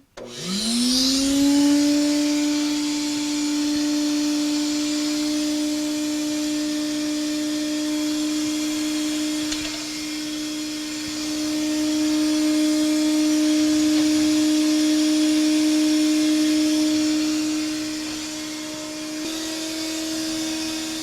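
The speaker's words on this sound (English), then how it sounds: "And I'll turn the vacuum on." A vacuum system for a woodturning lathe powers up with a rising whine that settles into a loud, steady drone with a strong tonal hum, running continuously and close by without speech.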